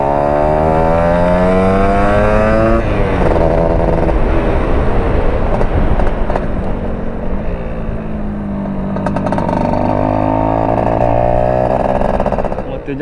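Motorcycle engine revving up and down close by, loud and continuous with rising and falling pitch sweeps, on a small Malaysian road bike before a casual group ride.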